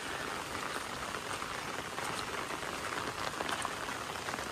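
Rain falls over fields in the Konkan countryside in a steady, even hiss of dense drops that carries on without a break, with no talk.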